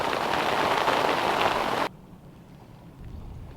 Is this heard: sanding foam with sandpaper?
no